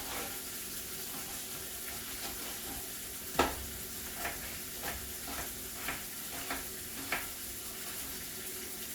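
Pork steaks fry in brown butter with a steady, fairly quiet sizzle, broken by a few soft clinks or taps at irregular intervals; no one speaks.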